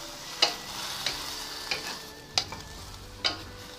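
Chinese cabbage sautéing in a pan is stirred in about five distinct scraping strokes, each a brief clatter over a faint, constant sizzle.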